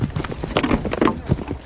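Horse hooves thud in a fast, uneven clatter as mounted cavalry charges into a line of shields in a medieval combat demonstration, loud and close, lasting under two seconds with no speech.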